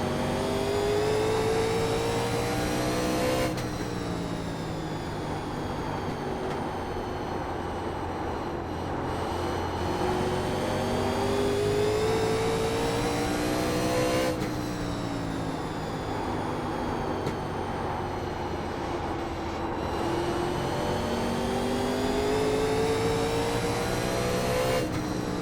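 Replayed iRacing NASCAR 1987 Legends race car engine at the Nashville Fairgrounds, a continuous loud roar whose pitch sweeps up and down lap after lap, broken by abrupt cuts.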